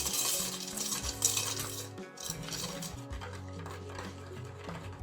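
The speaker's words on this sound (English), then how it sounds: "You need to use your whisk just to mix up your ingredients." A whisk stirs dry bath bomb ingredients in a bowl, giving a steady scraping and clinking of metal against the bowl that runs continuously without any talk.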